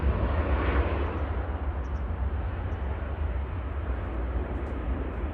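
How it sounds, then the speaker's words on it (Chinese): Steady broadband roar of an SF Airlines Boeing 757 freighter on its takeoff run at Kunming Changshui Airport, a sustained, fairly distant engine rush with a deep low rumble, unbroken and without voices. "顺丰航空757就起飞完成了"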